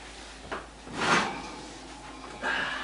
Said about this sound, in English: let's open up the oven and see what we got